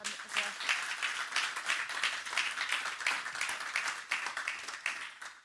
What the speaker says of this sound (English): could we just give our sponsors and partners a quick round of applause